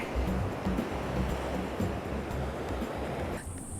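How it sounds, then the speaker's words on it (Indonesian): Strong ocean waves surge onto a rocky southern coast facing the Indian Ocean at Brangbako, Sumbawa. The surf is a loud, continuous roar with wind noise that stays steady throughout. "Ombaknya keras, terus banyak karang-karang tajam."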